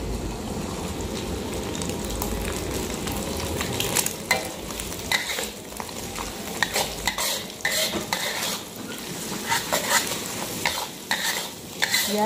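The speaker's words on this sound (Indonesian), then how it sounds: "Biar sosisnya tidak mentah ya, kita goreng ke sini nanti sosisnya matang." Sausage sizzles in hot oil in a pan while a utensil stirs and scrapes against the metal, a constant frying hiss broken by repeated sharp clinks and scrapes, close and without talk.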